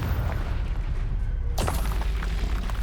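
Confringo spell blast in the video game Hogwarts Legacy: a deep rumbling boom fills the clip, with a sharp burst of crackle and debris about halfway through.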